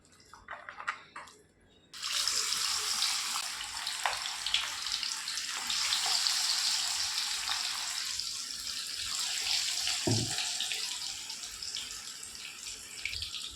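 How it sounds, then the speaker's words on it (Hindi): Chicken lollipops dropped into hot oil set off a loud, steady broadband sizzle that begins abruptly and keeps bubbling for more than ten seconds, with no talk over it. "तो अभी इसमें हम चिकन लॉलीपॉप डालेंगे ऑयल में।"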